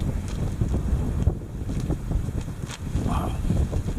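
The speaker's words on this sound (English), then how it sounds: "The wind's really pushed against that tarp" Winter wind gusts against a camping tarp strung over a hammock, rumbling and flapping close to the microphone. Low buffeting pulses roughly every fraction of a second.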